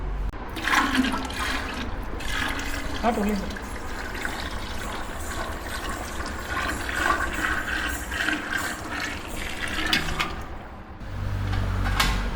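Freshly pressed groundnut oil pours steadily into a large vessel, making a continuous rushing, liquid noise over a low mechanical rumble.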